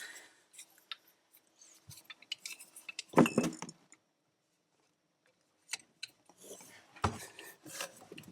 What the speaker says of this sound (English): Actually, I'm going to cut it again.